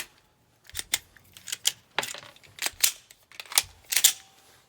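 Handgun slide racked repeatedly while clearing a double-feed malfunction, a series of sharp metallic clacks and clicks in irregular bursts, close and fairly loud with no talk.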